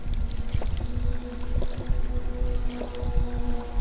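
A character drinks water in the video game Fallout 4, a continuous gulping and pouring sound over a steady background hum.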